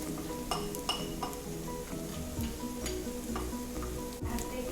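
Ground coconut paste going into a pan of sizzling oil for katachi aamati, a low steady sizzle with light spoon taps and clinks against the pan, quiet and close with no voices.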